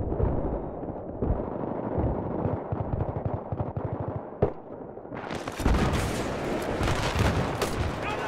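Dense machine-gun fire and rapid shots rattle continuously in a Battlefield battle at Seine Crossing, with a sharp crack midway and then a loud, broad explosion roar that hangs on and swells.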